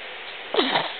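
A single small, high sneeze from a baby, sharp and brief, over a faint steady background hiss.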